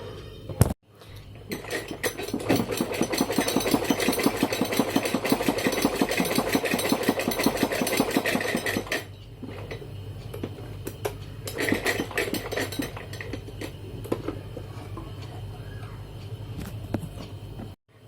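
Sewing machine stitching a belt onto a pair of pants runs in a steady, rapid chatter for about eight seconds, then starts again in shorter bursts, close and moderately loud.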